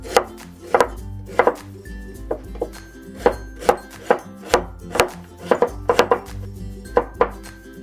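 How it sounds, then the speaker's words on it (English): A knife mincing a yellow onion on a cutting board: rapid, irregular chopping thuds, close and crisp, repeating in quick bursts with a faint background hum. "next we'll cut the yellow onion. We'll do a mince."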